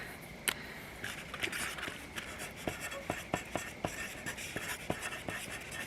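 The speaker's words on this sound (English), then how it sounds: "I'm just gonna write Cracker Jack on it" Pen writing on a paper seed packet for saved marigold seeds, a series of soft, close scratchy strokes and taps in an irregular rhythm with faint background noise.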